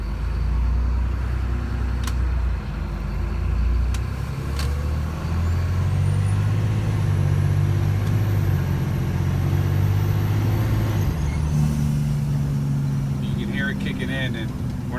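Engine brake slowing a Sportchassis hauler truck on a level road produces a steady low rumble and drone throughout, with road and cab noise and a rising whine.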